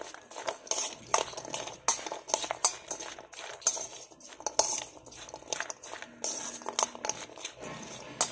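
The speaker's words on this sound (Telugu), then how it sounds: "చేసుకొని కలుపుకుందాం ఒకసారి ఇదంతా" A spoon stirs and scrapes through a sprouts salad in a bowl, giving quiet irregular clinks and wet tossing sounds in a steady rhythm close by.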